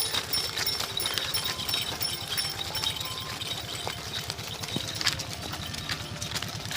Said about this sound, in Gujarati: જો હમણાં ગાવડા હાલ્યા જાય